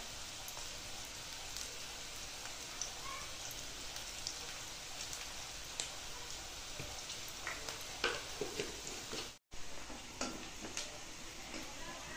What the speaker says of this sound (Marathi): कांदा चांगला लाल होईपर्यंत परतून घ्यायचं।